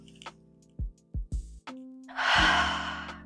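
A person demonstrates deep breathing near the microphone: a few short sharp sniffs or gasps, then one long loud exhale that trails off.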